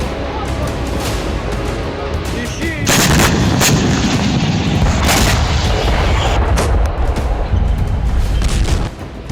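Loud bursts of gunfire and heavy booms from Russian attacks in a war zone, sharp repeated blasts over a rumbling background, with some faint voices.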